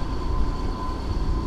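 At a railway crossing in Colombuthurai village near Jaffna, a passing train makes a loud, steady broadband rumble with a faint high whine, and no voices are heard.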